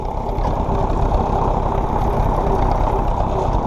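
A steady, low idle from an old tractor's Standard 23C engine rumbles continuously at close range, even and unchanging throughout, with no voices.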